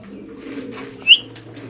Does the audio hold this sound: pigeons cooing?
yes